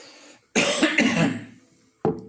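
A harsh throat-clearing cough from a hoarse throat bursts out once, followed moments later by a second shorter clearing, with quiet pauses around them.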